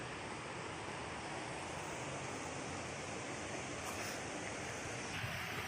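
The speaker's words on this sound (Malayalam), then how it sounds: "വെള്ളച്ചാട്ടം കണ്ടോ അവിടെ" The Orappankettu waterfall at Peechi, Thrissur, gives a steady, dense rush of falling water that holds an even level throughout with no pauses and no voices.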